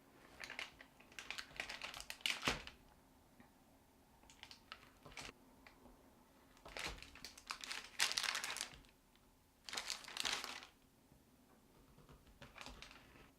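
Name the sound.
knife cutting date caramels into squares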